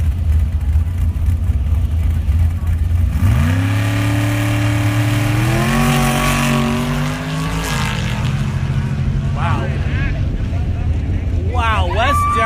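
Two race-built Jeeps launch off the line in a Sportsman class drag race, engines rising in a loud rev with stepped pitch climbs, buffeted by wind noise and overlaid by an announcer's commentary.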